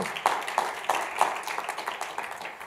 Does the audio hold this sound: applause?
yes